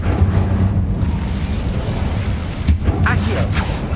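An Incendio fire spell bursts in Hogwarts Legacy, a low rumbling whoosh of flame that swells and rolls on for a few seconds over the game's ambient sound.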